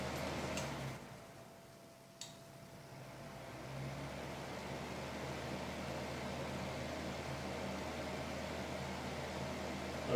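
An Impress 1500 watt two-speed fan heater running in fan mode blows a soft, steady airy hiss after a quiet moment and a brief click, continuing evenly at low level.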